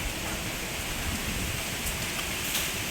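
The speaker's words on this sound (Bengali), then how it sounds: "প্রচণ্ড বৃষ্টি পড়ছে" Heavy rain pours down in a dense, unbroken hiss, steady and loud with no pauses.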